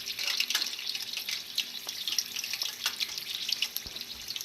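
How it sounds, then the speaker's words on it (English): Nigerian puff puff dough frying in a pot of hot oil with onion, giving a steady bright sizzle with scattered pops and crackles, close and continuous with no talking. "Once you have added your puff puff to your pot, make sure you move it around so everything will cook nicely."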